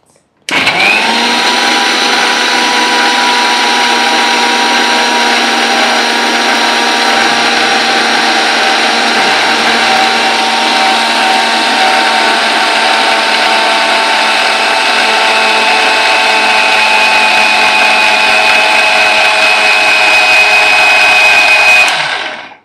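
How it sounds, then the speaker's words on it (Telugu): A mixer grinder whirs loud and steady, blending seeds with water into milk; the high motor whine holds constant for over twenty seconds from close by. "వాటర్ వేసి మిక్సీ పట్టించేసుకుంటే మనకు మిల్క్ అనేది వస్తుంది"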